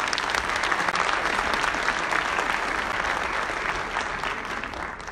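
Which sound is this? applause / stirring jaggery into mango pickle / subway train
applause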